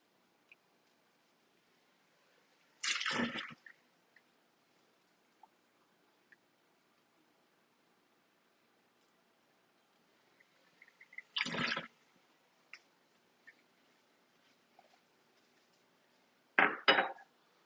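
Excess water is taken out of a cooking pot in three separate bursts of scooping, clinking and pouring, each lasting about a second, with near-silence in between.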